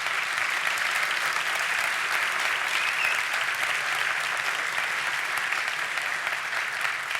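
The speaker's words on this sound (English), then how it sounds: "You can stop clapping" Conference audience claps steadily for several seconds after a technical talk: a dense, even wash of many hands clapping, with no voices over it.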